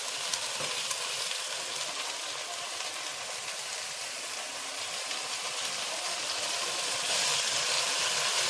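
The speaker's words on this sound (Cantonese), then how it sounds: "先將豆腐兩邊煎一煎香佢。" Tofu pan-frying on both sides in a wok for Cantonese tofu and roast pork rice, giving a steady, dense sizzle of hot oil that holds even for several seconds, close and loud, with no voices.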